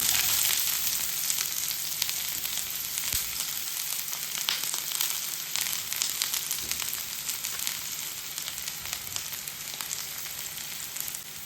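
Sliced onions fry in a pan for a dried red chilli chammanthi, giving a continuous, dense, close sizzle that holds steady throughout with no voices.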